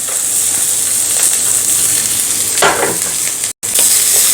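Green chili, onion and peas sauté in a pan for a millet soup, giving a steady close sizzle with stirring scrapes and a brief drop to silence near the end.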